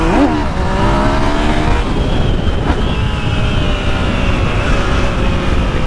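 A motorcycle ridden fast gives a steady loud engine roar with wind rush, its pitch shifting slightly as the speed changes, with no talking.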